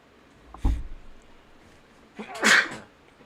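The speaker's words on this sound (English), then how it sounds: "Just sneezed." Two sneezes a couple of seconds apart: a short muffled one, then a sharper, louder burst, against quiet background noise.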